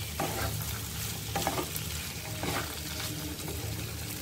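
Potatoes and peas for a paneer ghugni curry frying in a pan while being stirred: steady close sizzle with intermittent scraping strokes of a spoon, continuous throughout.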